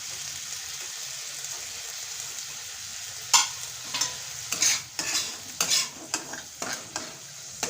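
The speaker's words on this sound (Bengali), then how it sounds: "নেড়ে চেড়ে সামান্য একটু জল দিয়ে দিচ্ছি" Chili spice mix for a bean pickle being stirred in a sizzling pan: a low frying hiss under a run of distinct scraping strokes of the spoon against the pan, close up and unvoiced.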